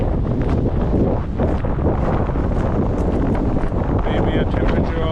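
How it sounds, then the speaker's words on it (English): Strong wind buffets the microphone at Iona Beach Regional Park in Richmond, BC, a loud continuous roar with gusty rumble throughout and a faint higher tone near the end. "The winds are just crazy right now."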